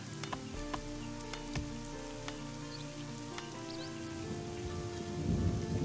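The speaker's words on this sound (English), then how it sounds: "It's a terrible, terrible thunderstorm." Steady rain in a thunderstorm in the strategy video game Northgard, a dense continuous patter with scattered sharp drops and crackles, swelling into a heavier rumble near the end, with no voices.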